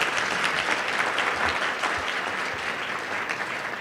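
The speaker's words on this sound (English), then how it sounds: "So a round of applause for her mama," Warm applause from an audience at a student recognition ceremony, dense overlapping clapping from many people that stays fairly even and fills the room for a few seconds.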